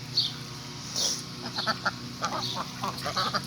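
Domestic ducks in a backyard flock give several scattered quacks, moderately close, mixed with other fowl calls over a low background hum, with no talking.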